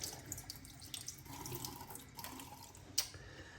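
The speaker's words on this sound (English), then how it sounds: "And now we'll do a cold rinse." Cold water runs from a tap into a sink during a wet shave routine, a steady close gush with small splashes and a brief louder spatter near the end.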